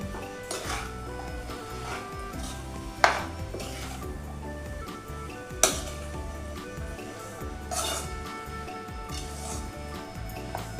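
Jackfruit vegetable being stirred and mixed in a pan on the stove, with soft continuous scraping and a few sharp metallic clinks of the spoon against the pan, close and moderately quiet.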